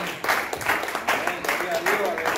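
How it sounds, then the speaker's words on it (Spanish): Rhythmic group clapping from a church congregation during a sermon, pulsing in regular bursts at moderate volume with some voices mixed in. "Doy un aplauso a Cristo."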